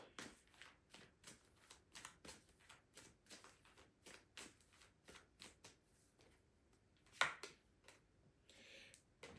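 A deck of tarot cards is shuffled by hand in a quiet room, a steady series of soft riffling flutters and light slaps close by, with one louder clack near the end.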